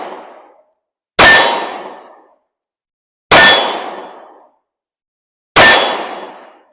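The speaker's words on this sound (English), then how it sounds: "I'm just gonna shoot the little target." A Glock 19 Gen 5 pistol fires at a small steel target: three loud, sharp shots, each answered by a bright ringing clang that fades over about a second, spaced two seconds apart, with the tail of an earlier hit at the start.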